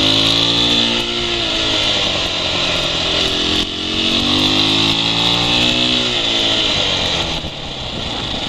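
A Husqvarna 701 Enduro single-cylinder motorcycle pulling hard through the gears, engine pitch rising and dropping with each shift, loud and close with wind noise.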